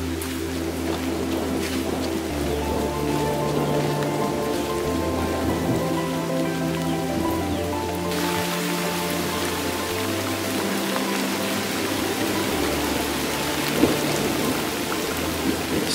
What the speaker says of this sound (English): Whoa, it's really starting to pour now.